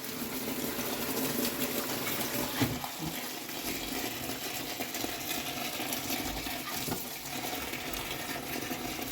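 Water runs and splashes steadily while fenugreek leaves are rinsed to wash out the soil, a continuous close hiss with a few louder splashes.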